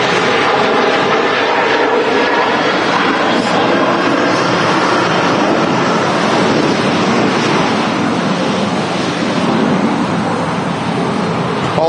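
A TUI Boeing 737 takes off from Manchester for Larnaca, its engines a loud, steady, broadband roar that fills the whole stretch, with wind buffeting the microphone.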